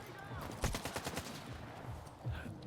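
Rapid automatic gunfire in the video game STALKER 2, a dense burst of sharp shots followed by a couple of scattered single cracks, loud and close during a firefight.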